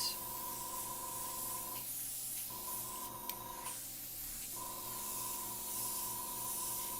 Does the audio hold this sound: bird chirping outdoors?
no